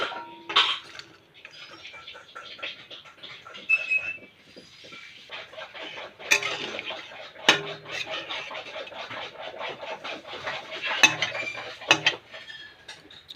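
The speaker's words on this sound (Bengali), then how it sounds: "মাছগুলি ঢেলে দেব।" Pieces of fish tip into a metal cooking pan with scraping and clinking of a utensil against the pan. The bumps and knocks are irregular and moderately close, with a faint sizzle in the background.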